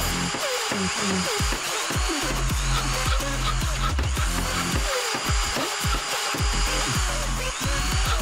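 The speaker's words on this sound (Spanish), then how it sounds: "Es hora de encender el taladro" A power drill whirs continuously with repeated short bursts and grinding, close and loud, with no talking.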